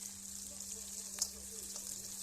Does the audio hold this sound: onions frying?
yes